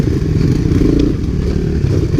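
Honda ATC three-wheeler trikes, 1985 and 1986 Big Red and a 1985 ATC250SX, ridden along a trail, their engines a loud, steady rumbling drone close by.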